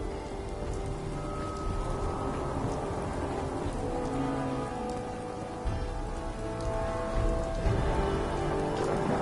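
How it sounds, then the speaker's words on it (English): Steady heavy rain in the video game Fallout 4, falling on surfaces with a dense patter and low rumbles like distant thunder throughout, with no talking. "Just thinking how wonderful it'd be to get out of this infernal rain."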